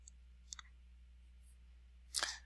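Faint computer mouse clicks sound against a low steady hum, with a short brighter rustle near the end.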